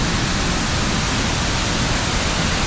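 Tad Yuang waterfall near Pakxong, Laos, roars as a steady, dense broadband rush of falling water, loud and unbroken throughout with no voices.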